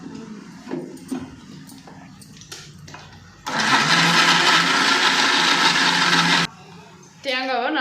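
A mixer grinder grinds coconut with fresh coriander, starting abruptly into a loud whirring roar for about three seconds and then cutting off, with a voice talking before and after.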